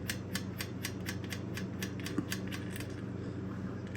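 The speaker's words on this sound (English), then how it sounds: "So we unscrew this threaded nut, and it's all the way the length." A threaded nut on a bicycle part being unscrewed, a quick series of regular metallic ticks and ratcheting clicks, close and moderately quiet over a low steady hum.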